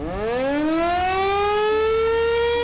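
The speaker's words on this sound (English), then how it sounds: "the only thing that might have made a difference on July 4th was a siren warning system" A civil defense warning siren winds up into a steady, loud, rising wail, heard alone and close for the whole stretch.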